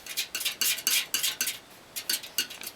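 Paint is mixed on a palette, red and yellow worked into orange, with a quick run of close, crisp scraping and tapping strokes in an uneven rhythm, alone and fairly quiet.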